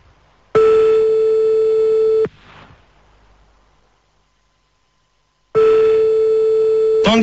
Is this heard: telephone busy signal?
yes